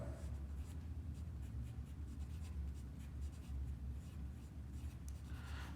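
Pencil drawing a pentagon on a paper drawing sheet, a steady scratchy scraping of continuous strokes close up, with no talk.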